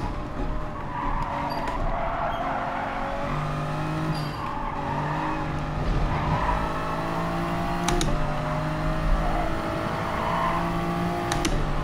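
Race car engine revving and tires skidding in the racing video game Gran Turismo Sport on PS5, a steady loud drone of engine noise with squealing slides, continuous throughout.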